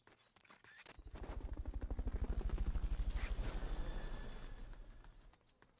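A Fulton recovery helicopter in a video game, its rotor thumps swelling in as it passes close by, a fast steady chopping that grows loud and then fades away.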